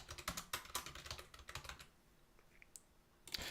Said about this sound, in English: now I have to type it out too